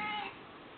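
A single short meow from a pet cat, soft and close, shortly before someone talks to it about strawberry yogurt.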